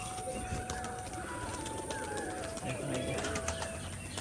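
A Rajshahi pigeon hen coos in repeated low rolling calls near the listener, with someone talking over the birds for most of the stretch.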